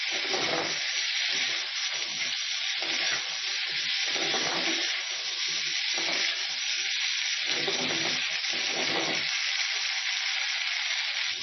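Potatoes frying in a pan with pieces of meat, a steady close hiss of sizzling oil with intermittent stirring scrapes throughout.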